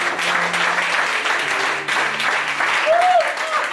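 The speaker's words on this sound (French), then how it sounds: "Acclamez le Seigneur très fort." A church congregation applauds the Lord, steady dense clapping throughout with crowd noise and some voices mixed in, loud and close.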